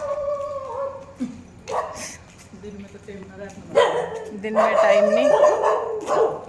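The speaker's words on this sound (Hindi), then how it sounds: "कुत्ते भौंक रहे हैं हमें देख के कि काट ना ले" Dogs bark outdoors at night in short, sharp bursts at moderate distance, growing busier toward the end as someone talks over them.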